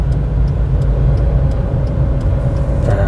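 A car engine climbs an uphill road during a driving lesson, heard as a loud, steady low drone with light regular ticking throughout.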